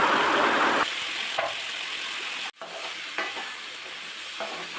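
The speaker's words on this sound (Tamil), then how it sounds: "இதை எண்ணெயிலே நல்லா வதக்கிக்கலாம்" Eggplant and onions sautéing in oil in a pan for a Tamil eggplant fry, a continuous close sizzle with occasional stirring scrapes and one brief drop in the middle.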